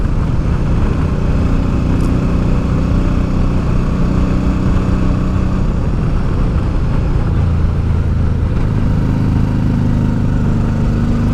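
A Honda Deauville motorcycle engine drones steadily while climbing mountain bends on the Col de la Bonette, heard close from the rider's position with wind rush over the whole stretch and slight shifts in pitch as the bike rolls through the curves.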